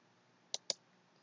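Two crisp computer mouse clicks, close and quiet, a fraction of a second apart, while stepping through a Windows 10 install on a virtual machine; nothing else audible around them.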